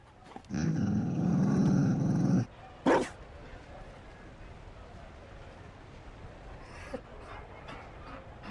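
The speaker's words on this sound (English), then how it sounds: "You found a dog." A Mabari war dog from the Dragon Age video game growls and barks in one loud, sustained burst, then gives a short yelp, after which only quiet background remains.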